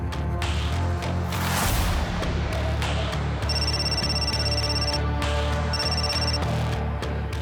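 A telephone rings in a Marathi crime drama scene. Two bursts of steady electronic ringing sit over a continuous bed of background music and low rumble, with no speech.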